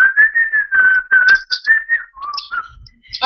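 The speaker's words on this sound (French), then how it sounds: "Arrête de siffler" A person whistling a wavering, tuneful melody nearby, loud and clear in short phrases with brief breaths between them and no talk.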